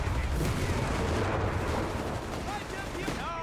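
Grenade blasts and gunfire in Company of Heroes 3 as Fallschirmjäger close on American Rangers, a loud, dense wash of artillery-like booms and rattling shots that stays heavy throughout and thins slightly near the end.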